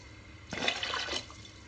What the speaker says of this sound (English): And I put water.